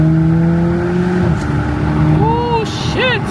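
A 500hp Mk5 Toyota Supra accelerates on a freeway, its engine droning loudly with rising tones that sweep upward near the end, with a voice talking over it.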